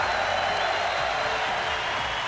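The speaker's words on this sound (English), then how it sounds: "and getting the applause he deserves" A large arena crowd applauding and cheering at the 2015 League of Legends World Championship finals between KOO Tigers and SKT, a dense, continuous roar throughout.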